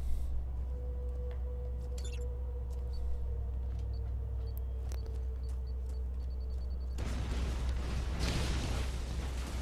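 An explosion is set off in Borderlands; after a steady low rumble, a loud broadband roar suddenly bursts in about two-thirds through and keeps rolling to the end, with no talking.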